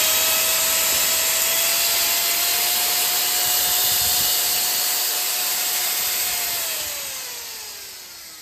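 A Bosch mixer grinder under repair runs at high speed with a loud, steady motor whine and broadband roar. Near the end the pitch slowly falls as it winds down.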